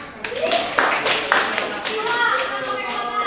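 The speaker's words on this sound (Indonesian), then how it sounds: "Tepuk tangan." A school group in a classroom claps for another group, a short burst of hand claps mixed with children's voices and chatter, close and fairly loud.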